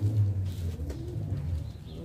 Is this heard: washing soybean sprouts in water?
no